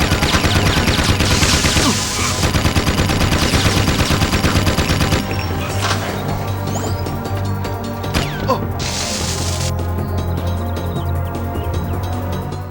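Vulcan gun firing in the video game Jak II, a dense, continuous mechanical rattle of rapid shots that runs the whole time with shifting layers of game sound and no talking.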